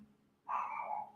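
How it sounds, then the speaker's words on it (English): Small chihuahuas yapping indoors, a single burst of high, shrill barking that rises sharply and holds for about half a second over quiet room noise. "now dog is barking"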